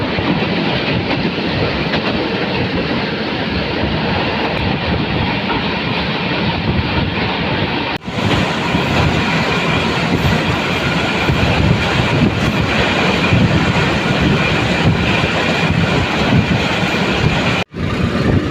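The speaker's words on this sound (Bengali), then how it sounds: "আর ট্রেন এখন ঢাকা এলিভেটেড এক্সপ্রেস নিচ দিয়ে যাচ্ছে" A Surma Mail local train in Bangladesh rolls beneath the Dhaka Elevated Expressway, a loud steady rumble of wheels and carriages that runs the whole time, with two brief sharp dips in the noise.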